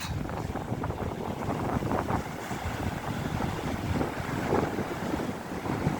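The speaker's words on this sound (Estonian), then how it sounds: "on meil jälle siis tuuline tormine päev, talvine torm" Stormy winter wind buffeting the microphone with foaming sea waves washing against a harbour pier at Pirita, a continuous broadband roar with gusty swells, moderately loud.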